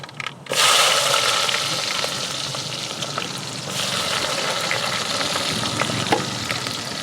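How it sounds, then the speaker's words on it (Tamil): Onion and green chillies sauté in an oiled pan for a fish kulambu, giving a steady, fairly loud sizzle with light stirring scrapes throughout and no talking. "வெங்காயத்தை நல்லா வதக்கிக்கலாம் ஃப்ரெண்ட்ஸ்"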